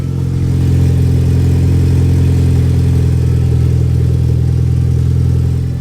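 A loud, deep exhaust on a Mitsubishi Lancer Evolution X with no catalytic converter drones steadily at idle, a heavy rumbling tone with a raspy edge, close and continuous throughout.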